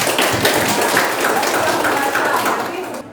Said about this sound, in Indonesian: Tepuk tangan untuk Satya ya.